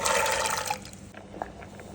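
Soaked kidney beans are swished and rinsed in water, a close, full splashing rush that quickly fades into a few quieter trickles and drips.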